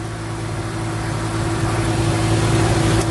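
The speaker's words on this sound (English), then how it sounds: "I'm going to disconnect the in-gear switch and see if the engine starts." A car engine runs at a steady idle with its in-gear switch disconnected, a loud, even, continuous hum with no voices.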